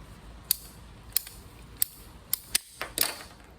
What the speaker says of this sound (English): We're going to come in here and we're going to cut this piece of pipe off.